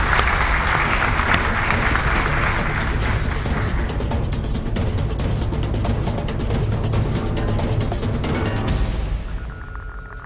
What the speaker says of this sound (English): Big round of applause for firm number six.